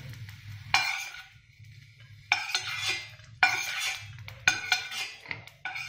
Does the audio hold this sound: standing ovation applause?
no